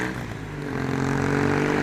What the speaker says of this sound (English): An old Triumph that one is.